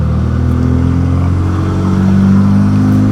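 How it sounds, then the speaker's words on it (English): A turbocharged 2-liter four-cylinder engine in a Renault Megane RS revs steadily and loudly from inside the car, a continuous droning growl with a slight swell near the end. "2-liter 4-cylinder engine that is turbocharged. Oh, listen to that."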